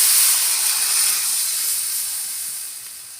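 Water poured into a hot pan of frying tilapia and puti fish hisses into a loud, steady steam sizzle that slowly fades over a few seconds, with no talking.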